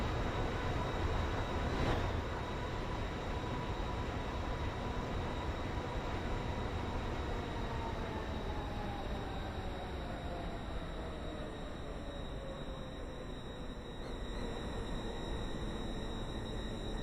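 Train running on rails toward Edgemead station, a steady broadband rumble with rail noise and a faint tonal whine that gradually falls in pitch as it slows on arrival; no talk.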